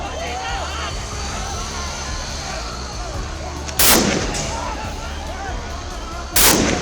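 Two loud police gunshots ring out a few seconds apart, fired at stone-throwing youths, over a constant background of crowd noise and commotion.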